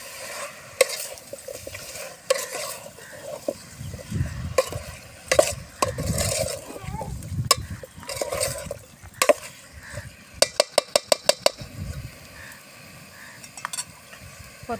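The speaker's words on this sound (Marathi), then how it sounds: "त्याला थोडं परतून घेते" Chicken with turmeric and salt is stirred and sautéed in a pan, soft sizzling under repeated scraping strokes and a rapid run of spoon taps against the metal, close and fairly quiet with no talk.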